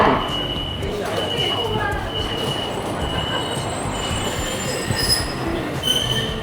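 A Shanghai metro train at People's Square Station squeals loudly and steadily on its rails, with the rumble of the carriages running close by and faint high tones over the top.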